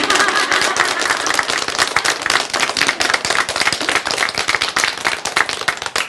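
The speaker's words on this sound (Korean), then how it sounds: "보통 이럴 땐 박수를 치는 거예요" A Korean lecture audience gives a dense, loud round of applause that lasts the whole stretch, steady many-handed clapping with no speech on top.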